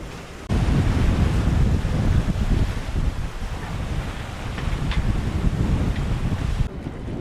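Strong wind buffets a sailboat at sea off Greece in autumn, a loud, steady roar with microphone rumble and wave wash that starts abruptly and continues without talk.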